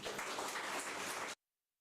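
A crowd at a news broadcast claps for just over a second, a dense, distant-sounding patter that cuts off abruptly into silence.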